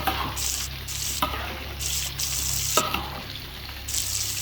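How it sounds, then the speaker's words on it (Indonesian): Tempe fries in a pan with a steady close sizzle, broken by several brief louder bursts of hissing and crackle as pieces shift in the oil. "Saya lagi masak tempe."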